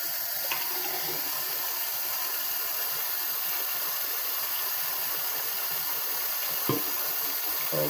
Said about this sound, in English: now I can pour water on the bottom